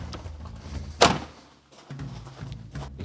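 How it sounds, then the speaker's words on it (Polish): Door of a Tatra T87 car shut once with a single sharp thunk, near and fairly loud, against quiet background hum outdoors. "I pokazujemy, jak się zamykają drzwi."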